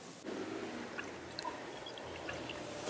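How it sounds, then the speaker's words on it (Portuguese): Gasoline from a filling station is poured into a graduated cylinder as a steady, soft liquid stream with small drips and splashes, close and quiet, and no one is speaking. "eu vou colocar aqui 50 ml da gasolina do posto A nessa proveta."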